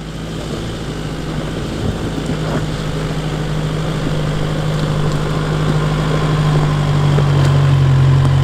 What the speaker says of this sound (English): First gear low range on these really steep rocky hills, and just try and hold that throttle nice and steady